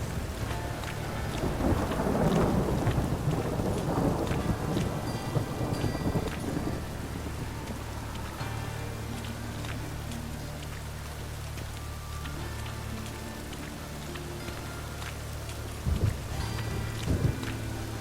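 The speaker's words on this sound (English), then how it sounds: "A storm, damn it." Thunderstorm in The Witcher 3: a heavy thunder rumble rolls through the first seven seconds over steady rain, then rain keeps falling in a constant close wash with a couple of brief louder bumps near the end.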